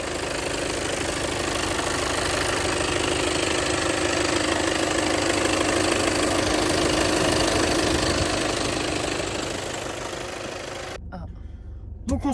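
An Audi A3 Sportback 2.0 TDI diesel runs with a steady, clattering idle, close and loud for most of the span, then cuts off abruptly near the end, leaving faint knocks.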